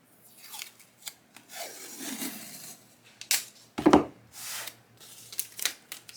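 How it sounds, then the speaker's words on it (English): Painter's tape being torn and pressed onto an acrylic sheet before cutting on a Cricut Maker, with sharp ripping and rubbing bursts, one loud tear near the middle, close up and alone. "I'm going to tape the top and the bottom with some painter's tape"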